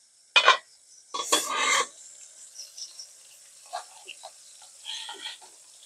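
Okra is dropped into a pan where potatoes are cooking, giving a couple of loud sizzling, scraping bursts followed by softer, intermittent frying crackles.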